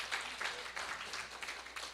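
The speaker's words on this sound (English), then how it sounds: "How about another round of applause for them?" Applause from a church congregation at a Sunday service, a steady wash of clapping at low level with no voices on top, continuing evenly throughout.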